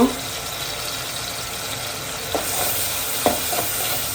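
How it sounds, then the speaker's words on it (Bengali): Onions with turmeric frying in a pan, giving a steady hiss of sizzling oil throughout, with a few sharp scrapes of stirring near the end, close and moderately loud. "তো আমার পেঁয়াজটা হালকা বাদামি হয়ে আসছে তার এখন আমি একটু হলুদ দিব"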